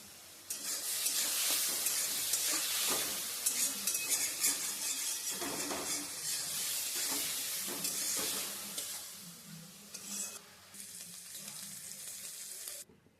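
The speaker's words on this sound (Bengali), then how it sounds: "চিংড়ি মাছগুলো আমরা একটু নুন হলুদ দিয়ে ভেজে নেব" Prawns seasoned with salt and turmeric sizzle loudly in a hot pan, a continuous crackling hiss with occasional scraping of a utensil, close by and without talk.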